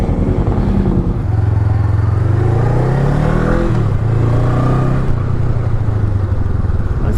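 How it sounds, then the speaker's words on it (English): A Honda CMX500 Rebel parallel-twin engine runs steadily, loud and close, with a smooth droning hum that rises and falls slightly as it revs and pulls. "Nice little parallel twin."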